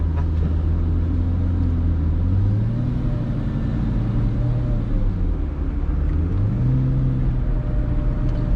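A 2004 Lamborghini Gallardo with e-gear drives along, its engine rumbling loud and steady with tones rising and falling as it revs and shifts; no one speaks.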